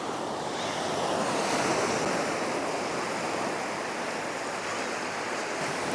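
Ocean waves wash up a beach and swirl around a camera tripod standing in the surf, a loud, steady rushing wash with some wind noise on the microphone.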